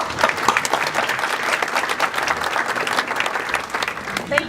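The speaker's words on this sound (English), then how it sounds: "please give a round of applause for our chair" A conference audience applauds to welcome the event chair onstage at a workplace technology conference in New York, steady dense clapping filling the whole stretch at an even, sustained level.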